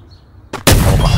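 Quiet background in the video game Redspot, then a sharp crack followed by a loud, sustained burst of gunfire that fills the rest of the moment.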